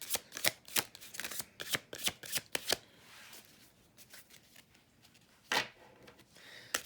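An oracle card deck being shuffled in a run of quick, crisp riffling bursts, loud and close at first, then a pause and a couple of later shuffles, with no voices.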